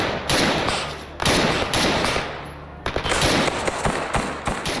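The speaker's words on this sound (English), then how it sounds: "the second you start hearing the crackle of far-off gunfire" Dense crackling gunfire, bursts of rapid shots from a distance, layered and continuous with sharper volleys breaking through.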